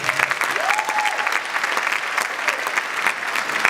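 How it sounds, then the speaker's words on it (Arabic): An audience at the 2019 Carthage Film Festival closing ceremony applauds in a steady, dense wash of clapping that holds at an even level throughout. "يستحق اكثر هكا تصفيق للجميع"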